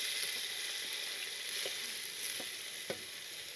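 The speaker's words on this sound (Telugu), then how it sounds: "ఉల్లిపాయ పచ్చిమిరకాయలని బాగా వేయించుకోవాలండి." Thinly sliced onions with green chilli slits sizzle steadily in hot oil with cardamom for a restaurant-style paneer cashew curry, a continuous close hiss with a few soft stirring knocks.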